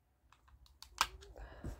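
A few quick, crisp clicks and taps from a computer mouse and keyboard sound close by in a quiet room, irregular and scattered over a second or two, followed by a brief muffled voice.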